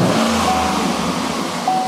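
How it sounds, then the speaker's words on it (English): Car engine with a digital MAF sensor under test, given a quick throttle snap just after starting: a loud, steady engine roar with a brief rise in pitch, heard close and alone. "I'll give it a quick snap throttle."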